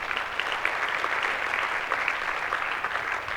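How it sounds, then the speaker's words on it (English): Steady applause from a crowd, a dense continuous patter of clapping without pause. "Give them a round of applause."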